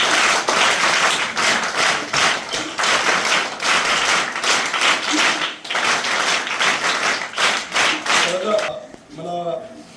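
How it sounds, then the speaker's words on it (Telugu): A crowd at a school event at a village high school claps together for a lawyer who donated benches, loud sustained applause with rhythmic pulses that fades at the end as a voice begins speaking. "లాయర్ గారికి మనం అందరం కూడా బిగ్ క్లాప్స్ కొట్టిన అందరూ కూడా"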